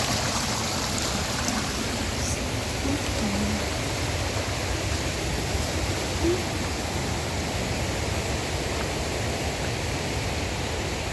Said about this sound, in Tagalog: Ilog na doon.